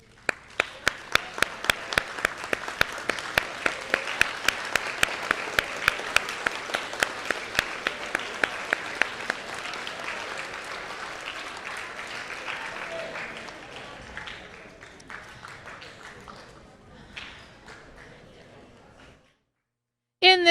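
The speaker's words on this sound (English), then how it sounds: "give them a big round of applause" Audience applause at a school 8th grade awards ceremony in an auditorium, loud sustained clapping from a large crowd with a few sharp close claps, gradually fading out before a brief silence.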